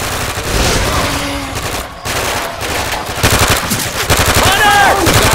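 Dense automatic gunfire in the Left 4 Dead 2 Swamp Fever campaign on realism expert, loud and continuous with rapid bursts and a few short gaps, a voice briefly cutting through.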